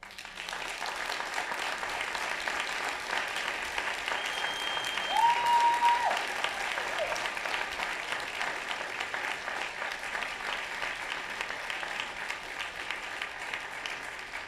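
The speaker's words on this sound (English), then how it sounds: "Let's give Matt a round of applause." Sustained audience applause for a keynote speaker at a recovery summit, an even wash of many hands clapping at moderate distance, with a brief tonal sound rising near the middle.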